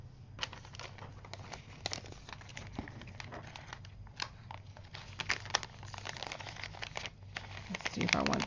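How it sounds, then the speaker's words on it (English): Plastic crinkles and rustles continuously in close, irregular crackling bursts, with quiet voices talking underneath. "let's wrap that into a plastic bag"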